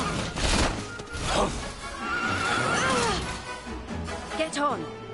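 Horse neighing in the video game Dragon Quest 11, with whinnies rising and falling several times over a steady game background while a person talks throughout.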